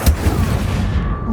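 An Incendio fire spell in Hogwarts Legacy bursts out with a short, heavy whooshing blast of flame, loud and close, fading over about a second.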